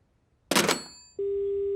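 A cartoon telephone line cuts out with a brief burst of noise, then a steady continuous dial-type tone hums alone and unbroken.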